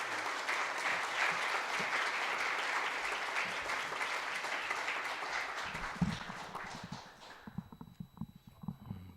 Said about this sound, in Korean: 여러분 다시 한번 박수를 부탁하겠습니다